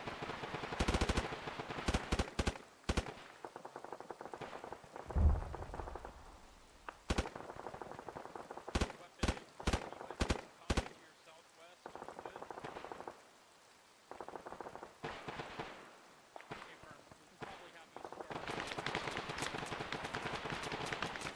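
Heavy machine gun fire in a military video game, sharp distant bursts and single cracks scattered over steady rain-like background noise, no talking.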